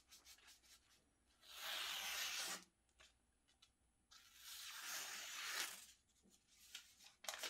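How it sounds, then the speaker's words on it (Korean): A freshly sharpened knife, a German Giesser Udo Tappe modified blade, slices through newspaper in two long, close, crisp rasping strokes, with quiet pauses between and no talking. "날 테스트는 신문지 정도만 잘라보도록 하겠습니다."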